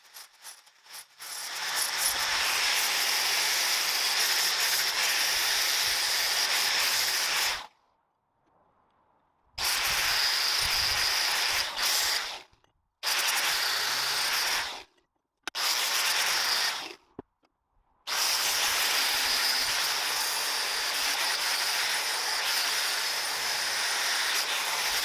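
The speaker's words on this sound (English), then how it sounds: "I did a little bit of fitting with the flat wheel on the grinder to make them fit nicely" An angle grinder with a flat wheel grinds steel box-section sockets in bursts, a loud, close, hissing screech that stops and restarts several times.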